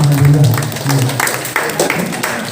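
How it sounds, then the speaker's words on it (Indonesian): A gathering bursts into loud clapping, brief and close, with voices and chatter mixed underneath. "Tepuk tangan agar alhamdulillah."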